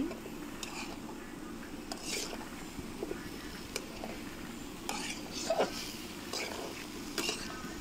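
Tomatoes with bottle gourd and other vegetables being stirred in a pan, soft scraping and intermittent spoon clinks against metal over a low sizzle, with a voice speaking quietly throughout.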